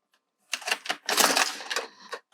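An LK150 knitting machine carriage slides across a row with a quick run of clicking, rattling clatter, close and fairly loud, lasting under two seconds and pausing briefly partway through.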